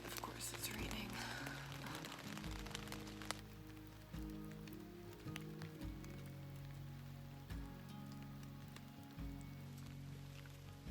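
Steady rain pattering on a tent on a morning while camping on the La Cloche Silhouette Trail, a dense close hiss with scattered louder drops throughout.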